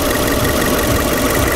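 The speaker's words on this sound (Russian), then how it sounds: "Работу двигателя." A Subaru Forester XT with a 280 hp turbo engine idles nearby, a steady, continuous rumble with a dense, even drone and no speech over it.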